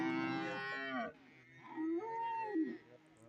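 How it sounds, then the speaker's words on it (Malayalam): Cattle at a buffalo and cow market low loudly and close by, with one long drawn-out moo followed by a second, wavering call. "നല്ല പശുക്കൾ ഇതാ ഈ ഭാഗത്ത് നിൽപ്പുണ്ട്"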